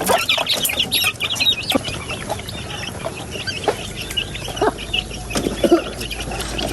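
Backyard chickens cluck and squawk busily at feeding time, a dense, steady stream of overlapping calls with occasional wing flaps, close and fairly loud throughout.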